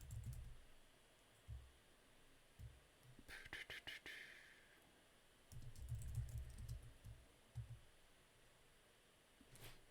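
Keys clacking on a computer keyboard at a desk while someone codes, with short bursts of quiet, close typing separated by pauses, plus a few faint clicks and rustles in a calm room.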